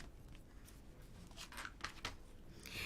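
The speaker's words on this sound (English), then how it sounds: "we're going to cut these out" Scissors snip through die-cut paper pieces in a few quiet, crisp cuts against a soft room hiss, with no talking.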